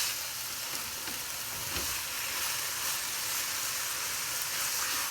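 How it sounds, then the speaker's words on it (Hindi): Grated carrots fry in ghee over a medium flame for carrot halwa, a steady dense sizzle and crackle running the whole time with faint stirring, close and moderately loud. "अच्छे तरीके से अब हम इसको घी के साथ भूनेंगे।"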